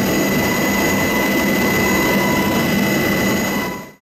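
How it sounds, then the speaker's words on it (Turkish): Provincial Gendarmerie Command helicopter supporting a roadside vehicle check makes a loud, continuous turbine roar with a steady whine overhead. It holds for about four seconds before cutting off abruptly, with no talking. "İl Jandarma Komutanlığı helikopteri de havadan destek verdi"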